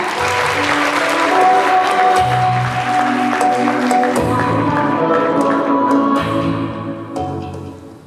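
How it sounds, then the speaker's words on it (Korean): Loud, sustained audience applause at an orientation presentation, steady clapping throughout that begins to taper off near the end, with background music tones underneath. "여러분 박수 부탁드립니다."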